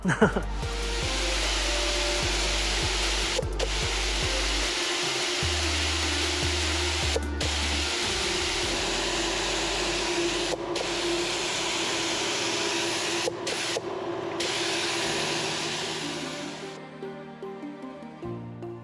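A steady, loud hiss of a spray gun spraying paint on a 1957 Chevy rat rod runs almost nonstop for about seventeen seconds over a low mechanical hum, with a few brief breaks before fading out.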